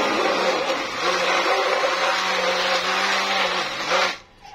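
A blender whirs loudly and steadily for about four seconds blending peeled, cut peaches, its motor droning without a break, then cuts off abruptly near the end.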